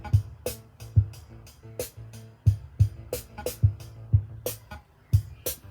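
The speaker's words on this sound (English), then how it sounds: "this is playing the Moog as well" A Moog synthesizer in a studio full of vintage synths plays a looping pattern of low thumping bass pulses under bright, clicky percussive hits, at a moderate level with no talking.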